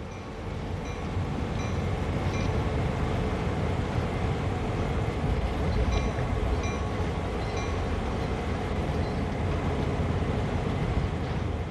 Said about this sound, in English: Reduce the power to zero and allow the locomotive to coast.